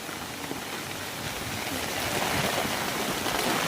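Heavy rain at the start of the rainy season, falling during a lightning storm: a dense, steady hiss close by that swells slightly louder toward the end.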